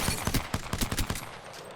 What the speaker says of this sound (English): it's easier for me when I'm crouch shooting like so.